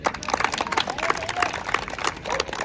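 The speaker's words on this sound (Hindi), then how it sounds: "जोरदार ताली उनके लिए।" An audience at a commando defence academy gathering applauds with brisk, uneven clapping that rises and dips, while voices carry on over it.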